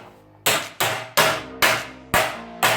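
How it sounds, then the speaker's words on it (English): A ball peen hammer strikes sheet metal on a 1965 Thunderbird being shaped by hand to work in a tuck, six loud ringing blows at a steady rhythm, each fading before the next, close by and alone. "I went and got the ball peen hammer, and I'll give it a little more clout to get this tuck in."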